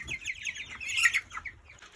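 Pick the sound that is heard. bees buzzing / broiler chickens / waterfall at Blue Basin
broiler chickens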